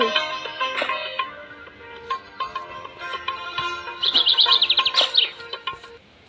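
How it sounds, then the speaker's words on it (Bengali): A bird in a Meena video game chirps in short synthetic tweets, mixed with game jingles and effects, and ends in a quick rapid trill, bright and close. "পাখিটা বলেছে যে আমার নাম মিঠু"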